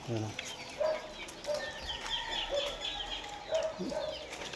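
Short nasal quacks from several ducks being fed, with fowl clucking and wing flaps, repeating irregularly at moderate distance in a busy farmyard in Mindanao.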